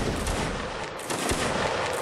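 A musket volley crackles in a Napoleonic Wars line battle, a dense, steady wash of many shots fired together at moderate distance, with no talking.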